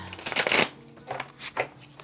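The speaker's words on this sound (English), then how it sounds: "as you can see, you have a pretty good shuffle" A tarot deck is riffle-shuffled by hand, a quick papery burst of cards followed by a few softer riffles and taps, close up.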